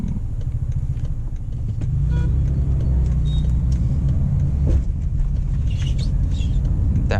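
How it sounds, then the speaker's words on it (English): BMW 520d car driving over a rough road, a low steady cabin rumble with a few brief thuds and knocks as the tires hit a pothole. "That was a pothole."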